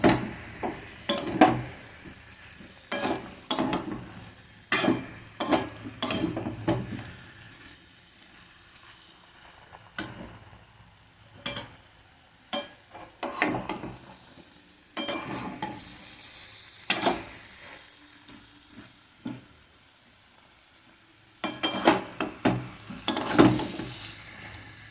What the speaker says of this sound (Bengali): মশলাটা কষিয়ে দিচ্ছি